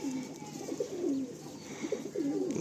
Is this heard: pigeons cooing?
yes